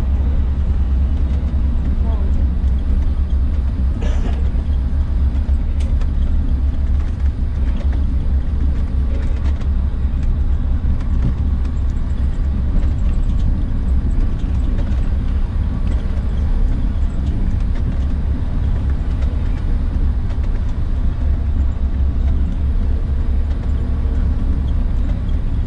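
An EUCATUR intercity bus engine drones steadily as it overtakes a four-axle box truck on a highway in Rondônia, Brazil, between Ariquemes and Jaru. A constant low rumble with road noise fills the whole stretch, with a voice talking over it.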